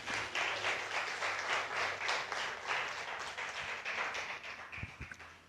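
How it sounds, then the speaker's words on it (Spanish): A church congregation applauding, a steady wash of many hands clapping at a moderate distance that holds evenly throughout, with a few louder taps near the end. "dar un aplauso al Señor"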